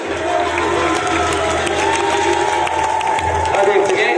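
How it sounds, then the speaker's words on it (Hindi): A crowd at a religious katha and debate gathering claps and cheers loudly, a continuous roar of applause and voices with some speech mixed in. "ताली बजा मेरे लिए।"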